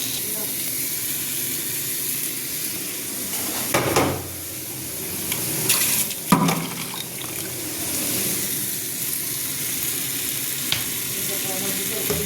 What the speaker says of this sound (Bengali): টমেটো দিয়ে দিলাম, এখন টমেটো দিয়ে একটু কষিয়ে নিই।